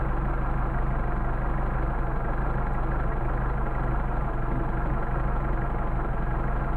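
A Mercedes 190SL with Solex carburetors idles steadily, a continuous low engine rumble running the whole time while the idle is adjusted and begins to drop.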